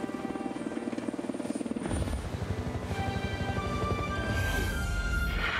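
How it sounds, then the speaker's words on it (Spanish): A rescue helicopter arrives, its rotor chop starting as a fast, buzzing flutter and then deepening into a louder, heavier, rhythmic thump as it draws close, with no voices. "En verdad fue un gran alivio ver llegar al helicóptero."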